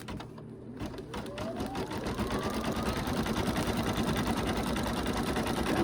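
Embroidery machine stitching a snowman design through plastic stabilizer, a fast steady mechanical whirr that builds up after a short start and then runs continuously and fairly close.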